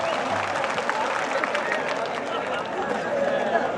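Applause from the crowd at a Hindi comic poetry gathering, a continuous patter of many hands mixed with crowd chatter and voices throughout.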